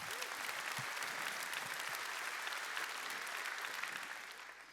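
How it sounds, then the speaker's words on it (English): Audience applause fills the hall at a large corporate keynote event in Sydney, a steady dense wash of clapping that holds for several seconds before easing off slightly at the end. "Can we give a round of applause to all of our speakers and all of our customers?"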